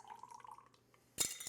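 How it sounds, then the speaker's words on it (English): A pumpkin pie martini is strained through a Hawthorne strainer into a glass, first as a faint, quiet trickle and then as a short, brighter splash of liquid near the end. "I'm going to strain this a couple of times. First time, just with a regular Hawthorne."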